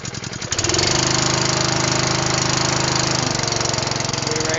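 A gas engine on a 535 or 1035 gallon deicing sprayer cranks with a few quick pulls, catches, and settles into a loud, steady running drone that continues to the end.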